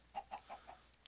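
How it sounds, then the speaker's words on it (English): Chickens in the video game Minecraft cluck four times in an even, quick rhythm, quietly and close by, with nothing else heard. "There are a lot of chickens. Lots and lots of chickens."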